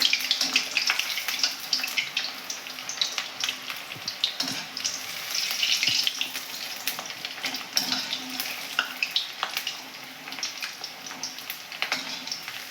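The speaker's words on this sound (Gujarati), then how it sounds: "આપણે અહીંયા બોલ્સને એકદમ સ્લો ગેસમાં તળવાના છે" Vegetable Manchurian balls frying in oil over a low gas flame, a steady crackling sizzle with irregular bubbly pops throughout, close and moderately loud, with no voices.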